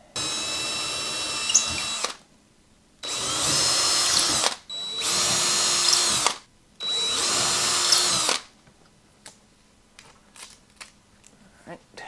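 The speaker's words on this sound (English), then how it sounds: "Drill the holes for the drywall anchors." A power drill bores holes into a wall for drywall anchors to mount a magnetic dry erase board: four loud, close bursts of whirring, each about a second or two long, split by short pauses, followed by faint clicks of handling.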